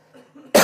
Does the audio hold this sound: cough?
yes